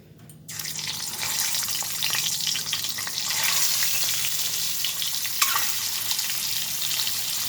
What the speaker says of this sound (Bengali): আমি ডিমগুলো ভেজে নেব।